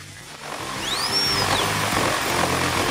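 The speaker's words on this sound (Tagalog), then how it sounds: "Meron pa akong drill." A cartoon power drill sound effect: a steady, loud mechanical whir with a buzzing, chainsaw-like edge, running continuously throughout.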